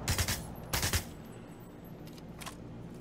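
Rapid bursts of automatic gunfire from a battle-royale video game, two loud volleys in the first second followed by fainter distant shots, with no talk over them.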